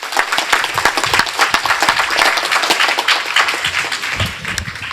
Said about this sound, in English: Please let me ask you all for an applause for our interpreters who, against all the rules, stayed with us.